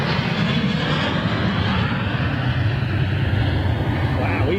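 A large cargo jet taxiing at Frankfurt airport, a loud continuous engine roar and whine heard from nearby, steady throughout the stretch.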